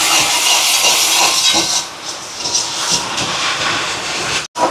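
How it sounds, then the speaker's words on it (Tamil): Water poured into boiling caramelized sugar while making dates toffee erupts in a loud, close, steady sizzling hiss that rolls on for several seconds, then cuts off abruptly near the end. "இதில் வந்து ஒரு கொஞ்சமாக 2 டேபிள் ஸ்பூன் மாதிரி தண்ணி சேர்க்குறேன். சேர்த்துட்டு இதை காய்ச்சி விடுவோம்."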